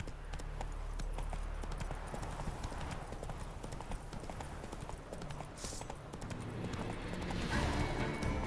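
Roach, a horse in The Witcher 3: Wild Hunt, gallops with steady, continuous clip-clop hoofbeats close by, set over a constant low game rumble and no talking.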